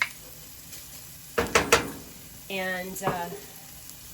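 Bacon and shallots sizzle in a pan with a soft, steady hiss under a few sharp clinks of utensils and a short spoken voice.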